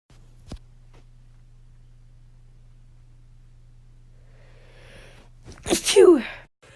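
One loud close sneeze near the end, preceded by a long quiet stretch with a faint hum and a single click, then a short inhaled buildup before the forceful burst.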